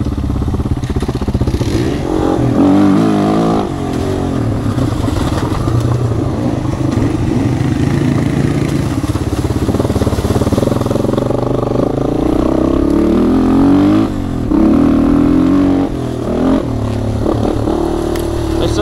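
A Yamaha XT225 trail motorcycle rides off-road along wooded double track, its single-cylinder engine buzzing loudly and continuously with throttle rises and falls, close-up and mixed with rattling and crackle from the rough ground.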